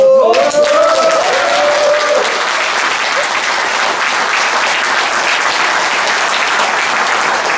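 Audience applause at a rally over minimum wage policy for small business owners, a loud burst of many clapping hands that sustains steadily, with a brief tonal voice-like sound at the start.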